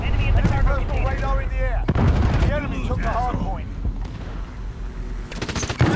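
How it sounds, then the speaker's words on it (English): Holger light machine gun fire in a first-person shooter, rapid bursts of gunfire with explosions and battle noise throughout, loud and close, while someone talks over most of it. "I'm playing with my Holger light machine gun"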